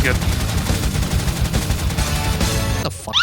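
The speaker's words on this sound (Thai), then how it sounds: "งั้นเอาปืนกลหน่อยเป็นไงล่ะ" Rapid machine-gun fire from the People Playground sandbox game, loud and continuous bursts dominating the clip with a brief break near the end.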